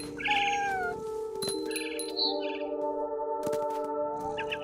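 A cat meows in the video game What Remains of Edith Finch, several short mews alongside bright bird chirps over a steady humming ambient drone.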